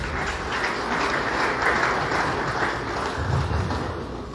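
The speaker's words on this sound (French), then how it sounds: "applaudir encore." Applause from the gathered mourners at a farewell ceremony, a steady, dense patter of many hands clapping at moderate distance, sustained for several seconds with no speech.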